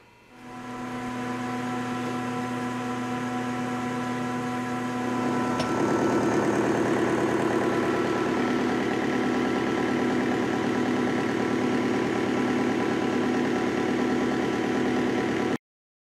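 A metal lathe turns an interrupted cut at 440 RPM on a rod bender project, a steady droning motor hum with faint rhythmic pulsing that grows slightly louder partway through, with no talking.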